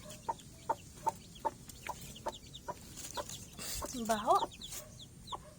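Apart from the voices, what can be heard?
hen clucking near her chicks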